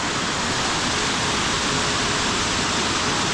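Kenmere Falls in Tasmania pours heavily in a dense, loud, unbroken roar of rushing water, close and steady throughout.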